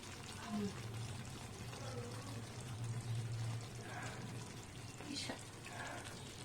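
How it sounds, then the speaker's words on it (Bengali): Spice water pours into an aubergine curry in a pan, a low, steady liquid rush with faint sizzling and a few soft clinks, quiet and close. "মশলার জলটা দিয়ে দিচ্ছি"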